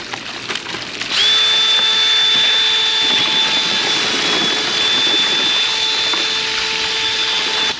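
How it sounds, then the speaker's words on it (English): A power drill starts up abruptly and whines steadily at high speed, mixing dirt and water in a bucket, running continuously and loud with a faint churning underneath. "All right, here we go. Got my drill."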